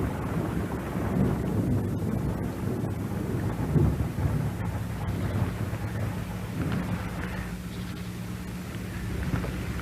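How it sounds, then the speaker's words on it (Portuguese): Heavy raindrops fall steadily through a forest, a dense continuous patter with low rumbling and gusty wind noise throughout, fairly loud and close, with no voices. "a pesada gota de chuva que penetra a floresta"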